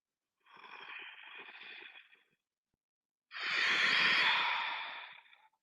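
Slow, deep breaths during a yoga session, heard close and quiet: a softer exhale followed by a pause, then a longer, fuller breath that swells and fades, with no talking.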